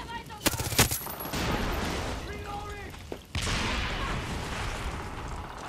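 Fast bursts of gunfire from a rapid-firing gun in the game Far Cry 6, loud cracks and echoing reports over dense combat noise, with a person speaking over it.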